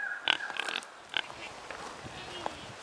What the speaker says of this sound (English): They're very excited because it's their feeding time, so they're wanting some food.